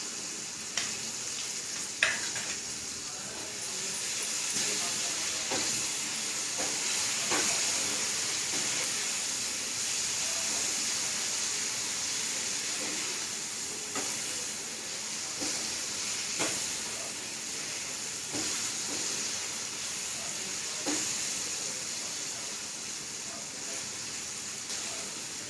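Ginger garlic paste sizzles and fries in a hot pan with a steady loud hiss, broken by occasional stirring scrapes and clinks throughout.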